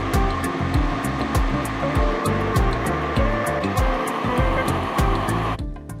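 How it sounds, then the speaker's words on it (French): Blender grinding a keto ice cream mixture of cottage cheese and xylitol, a loud close whir pulsing in a fast regular rhythm that cuts off abruptly at the end. "Je vais ajouter une autre cuillère à soupe de xylitol. Et puis je vais broyer encore."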